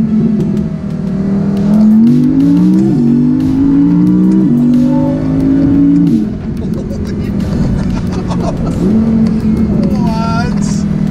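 Tuned Audi all-wheel-drive car with an 80 hp tune accelerating hard in first gear, the engine note climbing in loud, close revs with several shifts and throttle lifts, while someone talks over it.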